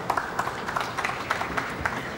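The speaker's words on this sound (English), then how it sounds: "that has awakened two people in the crowd who applauded that effort" Sparse hand clapping from a few spectators at the 2007 World Pool Championship nine-ball final, a scattering of uneven individual claps heard alone, with no talk.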